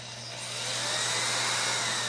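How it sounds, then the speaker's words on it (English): A power drill boring a hole through a pushrod, a steady high whine that builds and holds loud for about two seconds. "And then drill a hole through it."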